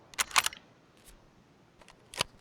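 A bolt-action rifle being reloaded in Escape from Tarkov: a quick pair of sharp metallic clicks, a faint click a moment later, then another crisp mechanical snap, close and isolated against a quiet background.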